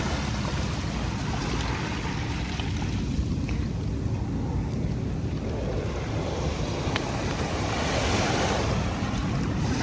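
Steady surf washes in continuously at Dolomite Beach on Manila Bay, a broad wash of waves close by with wind rumbling across the microphone throughout.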